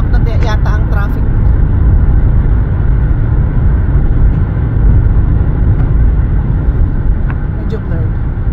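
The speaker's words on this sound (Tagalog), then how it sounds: "Nag-build up na yata ang traffic." Steady, loud highway traffic on the Queen Elizabeth Way, a continuous broadband roar of passing cars and buses with no break, heard alone throughout.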